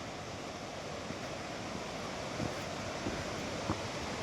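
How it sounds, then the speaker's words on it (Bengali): Water of Uski waterfall in Simlipal rushing past as a broad, steady roar, moderately distant and unbroken, with wind buffeting the microphone now and then and no voices. "উস্কি এটা হচ্ছে ওয়াটারফলসের জলটা এখন দিয়ে যাচ্ছে"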